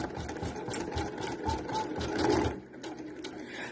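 An embroidery machine stitches a design onto a poly school folder, a steady close, busy mechanical chatter with rapid needle strikes and a thumping low rhythm that briefly shifts pace as it changes between sections.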